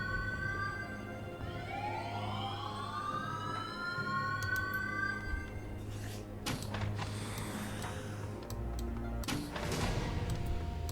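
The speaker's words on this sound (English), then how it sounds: "Alright, there's the alarm." An alarm siren in the video game Shadowrun Hong Kong wails with rising and sweeping tones over a steady low drone, joined later by clattering and noisy bursts, continuous and moderately loud.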